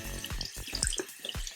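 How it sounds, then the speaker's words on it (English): Warm water runs from a bathroom tap while dirty makeup brushes are rinsed, a close splashing flow with sloshing, gurgling bursts as the brushes move under the stream, no voices. "I'll take and start off with a little bit of warm water"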